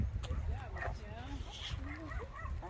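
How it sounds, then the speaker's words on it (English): A toy telephone gives off faint, short barking and whining yips, with people talking close by over it. "Look at that barking telephone."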